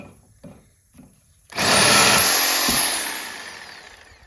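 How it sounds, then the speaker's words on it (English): A sawzall reciprocating saw bites into a copper and aluminum A-frame radiator, starting with a few light knocks and then a loud, close, continuous harsh cutting roar that gradually fades. "Handy dandy sawzall."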